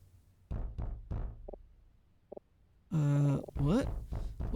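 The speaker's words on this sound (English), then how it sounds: "What is that knocking?" Several dull knocks on a door in the detective video game Detective Instinct, three close thuds followed by two fainter taps, then a voice speaking loudly.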